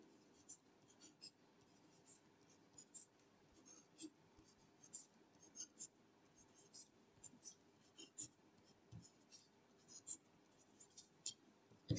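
Pencil or pen scratching out math on paper, soft and close, in short irregular strokes and taps over a quiet room, with faint breathy sounds now and then.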